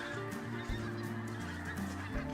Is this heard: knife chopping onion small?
no